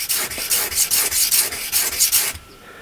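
A grafting knife blade is ground on a sharpening surface with fingers pressing the edge down, giving about ten loud, rhythmic rasping strokes close up, then stopping near the end.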